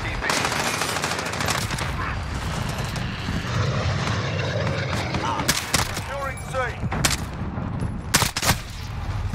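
Rapid bursts of CR-56 AMAX rifle fire in Modern Warfare, with loud close automatic volleys, sharp single reports and a background rumble of aircraft as a player comments over the action.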